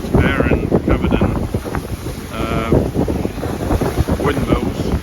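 Strong wind buffets the microphone aboard a sailboat at sea in the Greek islands between Poros and Kithnos, a steady, loud roar with gusty swells and faint water sounds throughout.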